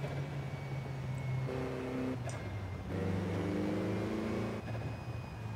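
Modified Toyota Celica engine with a blow-off valve in Forza Horizon 5, heard from inside the car: steady droning tones that shift pitch as it revs, with a brief hiss between gear changes.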